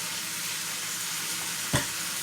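Meat and onions sizzle in a pan for birria, a steady close frying hiss with one brief clink or stir partway through and no voices.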